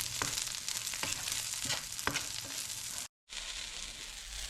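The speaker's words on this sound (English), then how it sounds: "Fry the chilies nicely as shown in the video, and in the end add some cumin. Let it roast for a few more seconds." Chilies and cumin roasting in a pan, with a dense, continuous sizzle and crackle close by and a few stirring scrapes, broken by a brief silence before the frying carries on.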